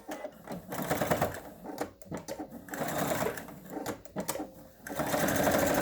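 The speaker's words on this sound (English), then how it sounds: "Back stitching on both ends." A sewing machine back stitches fabric for a dementia lap pad. The needle runs in quick loud bursts, stopping and starting in short runs, with a longer steady run at the end.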